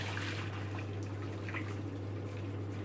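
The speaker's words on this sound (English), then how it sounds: "you're going to strain off all the hot water" Hot water strained from a heavy pot of boiled potatoes into a kitchen sink, a steady splashing pour running continuously at close range over a low hum.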